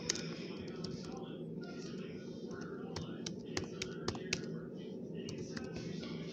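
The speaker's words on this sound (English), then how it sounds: "If I can even type correctly." Quick keyboard typing, a scatter of light, sharp key taps over a steady background hum of game sound, with quiet talk in between.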